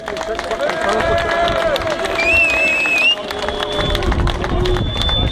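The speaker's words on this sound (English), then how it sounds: "So a round of applause for them" A street demonstration crowd in Birmingham applauds police commanders in 2011, a loud burst of clapping and cheering amid crowd noise, with whistles and voices in the mix.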